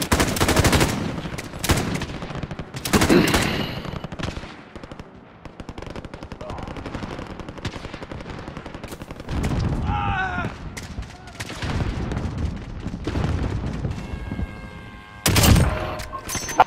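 Rapid bursts of automatic gunfire and loud blasts from the video game Call of Duty: Warzone come in waves, with shouting voices mixed in between the volleys.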